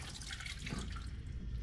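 Water drains steadily through a small aquarium sieve holding red midge larvae kept as fishing bait, a soft continuous trickle and splash heard close by with no talking.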